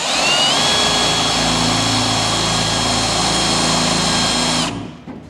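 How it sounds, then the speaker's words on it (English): Power drill boring out a hole in a Ford pickup bed, a loud steady high-pitched whine running continuously for nearly five seconds before cutting off and winding down, close by, with no talking. "Drilling out."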